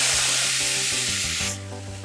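Pears dropped into a hot dry pan with no oil set off a loud, close, spraying hiss that holds steady, then suddenly drops away to a softer sizzle, with a steady musical tone underneath.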